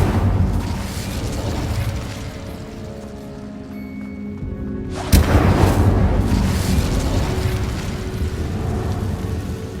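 Incendio fire spell cast in Hogwarts Legacy, a loud burst at the midpoint flaring into a roaring, crackling fiery rush over a busy game soundscape that carries on to the end.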